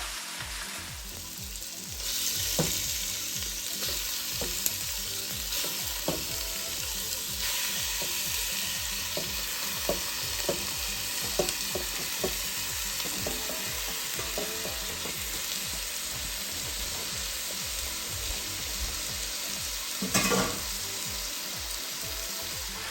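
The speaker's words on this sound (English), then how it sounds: "And then you put your pork. Then you fire a little higher." Pork frying over raised heat in a pan, a loud continuous sizzle with scattered pops and occasional scrapes of stirring, close and steady throughout.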